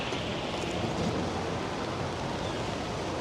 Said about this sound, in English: The rain's getting heavier and heavier now.